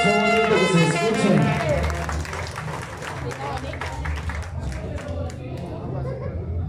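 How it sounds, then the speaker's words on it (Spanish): An audience at a mariachi birthday performance in Colombia bursts into applause and crowd chatter, loud at first and then settling to a steady clapping murmur, with voices talking over it. "Y el aplauso bonito que se escuche."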